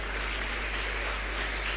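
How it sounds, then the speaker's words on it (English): An audience at an inaugural function for a law moot court competition claps for a couple, a steady dense applause from a roomful of people, sustained throughout with no pauses. "So big hand for the couple."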